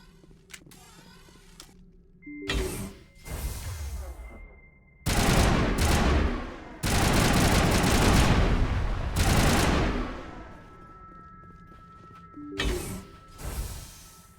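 Heavy bursts of automatic gunfire crackle in a Mass Effect firefight against the Geth, several loud clustered volleys separated by quieter pauses, with mechanical clanks and electronic tones between them.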